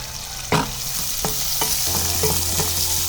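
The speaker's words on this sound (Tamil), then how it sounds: "வெங்காயம் நல்லா வணங்கட்டும்." Onion with two sprigs of curry leaves frying and being stirred in a pan, a steady close sizzle with sharp scraping stirs near the start and a low hum underneath.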